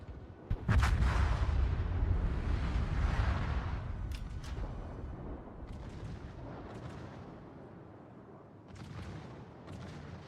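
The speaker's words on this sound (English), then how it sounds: "Hey, look, a torpedo hit." A torpedo striking a warship in the naval battle game World of Warships, heard as a sudden loud deep boom followed by a long rumbling roar that slowly fades, with a few sharper cracks later and no talking.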